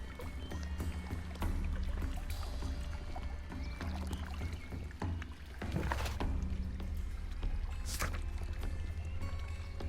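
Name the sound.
flowing water in the video game Sherlock Holmes: Crimes and Punishments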